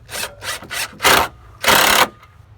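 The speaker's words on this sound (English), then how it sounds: "now we're going to screw this in" A screw is driven into a wooden support under a DIY toilet, heard as five loud grinding bursts close up, the first three short and even, the last two longer, with brief pauses between them.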